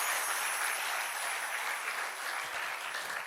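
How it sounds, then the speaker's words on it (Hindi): An audience at a Hindu devotional discourse claps together in a steady, continuous round of applause, moderately distant and even in loudness, with no voices over it. "इसके लिए ताली बजानी पड़ेगी भैया"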